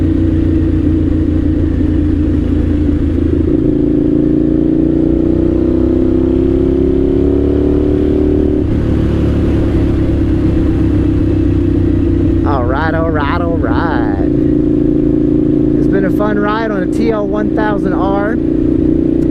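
A 1998 Suzuki TL1000R sport motorcycle engine drones steadily and loud from the rider's seat throughout, its pitch rising under acceleration then settling, with a voice talking over it in the latter half.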